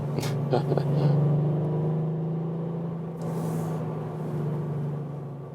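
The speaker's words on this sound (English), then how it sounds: "The engine here a little bit drives like a naturally aspirated one, also maybe due to the sound." A VW up! GTI engine hums steadily while driving through town, with a constant low drone and a brief rise in intensity near the start.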